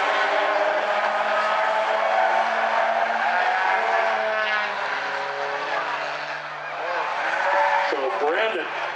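Race cars circling the track at South Sound Speedway during a Bumblebees heat race, a continuous engine roar with shifting pitch as cars pass, under steady commentary from an announcer.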